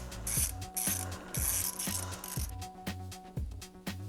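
A ratchet fitted with a T30 Torx bit turns a brake rotor screw on a C8 Corvette Z51, giving close, loud, regular clicking strokes with about two pawl bursts per second across the whole stretch, alone with no talk.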